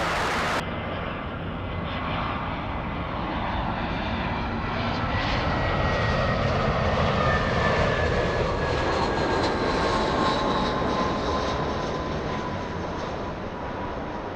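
An airliner lands on runway 24 Right at Los Angeles LAX airport, its engines a loud, steady, broad roar that holds for the whole stretch with a faint rising whine.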